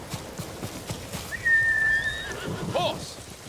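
A horse whinnies in the Ghost of Tsushima video game, one clear drawn-out neigh with a fainter follow-up call over soft hoof and rain ambience.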